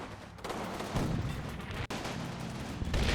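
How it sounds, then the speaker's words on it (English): A Sherman tank fires on an MG42 position in the WWII strategy game Combat Mission, heard as steady distant booming and rattling gunfire with a brief sharp drop midway. "try to follow this tank as it opens fire on that MG42"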